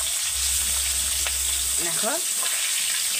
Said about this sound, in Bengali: রুই মাছগুলো তুলে দিয়েছি, দিয়ে ভালো করে ভেজে তুলে নেবো।